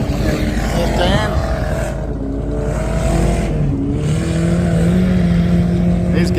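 A 304 V8 with VN heads in a Hilux chassis with a Trimatic gearbox revs hard through mud, a loud, close engine roar rising and falling in pitch, with voices talking over it.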